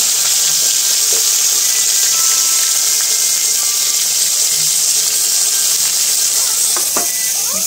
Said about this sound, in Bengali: ভাজা হয়ে যাওয়ার পর এখন হচ্ছে করলা ভাজা।